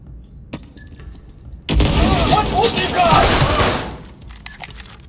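Gunfire in the video game Cyberpunk 2077: a sudden loud burst of rapid shots and booms starting about a third of the way in, sustained for a couple of seconds before fading, with quieter game sounds around it.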